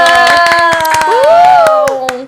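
Rhythmic clapping in a lively Portuguese-language show, sharp regular claps under loud music with a sustained melodic tone and voices.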